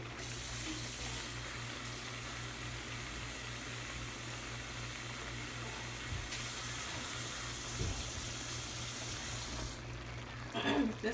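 Water pours into a container over a steady low hum, with a short burst of sloshing near the end, faint and close.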